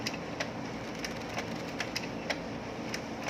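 An HP Smart Tank 615 printer running head cleaning whirs steadily at low volume, with faint regular clicks and ticks repeating about every half second.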